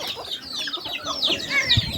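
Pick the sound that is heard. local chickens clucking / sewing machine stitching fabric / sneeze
local chickens clucking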